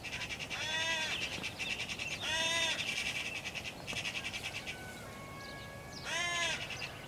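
A crow caws several times in the open countryside, harsh rasping calls in a few separate bursts, moderately distant over a quiet outdoor hush.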